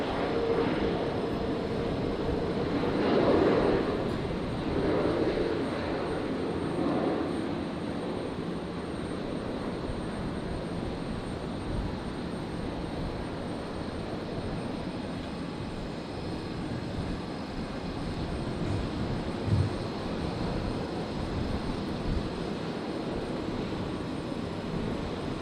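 A Jetstar airliner landing on runway 01 right at Brisbane Airport at night, heard as a steady, moderately distant engine roar that swells briefly early on and then holds as a broad rumble throughout.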